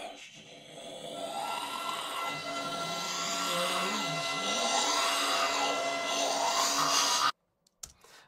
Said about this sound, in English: I have the voice over here and the bowed metal over here.